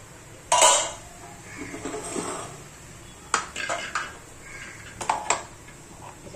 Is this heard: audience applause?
no